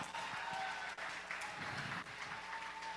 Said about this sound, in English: Give her another round of applause, y'all.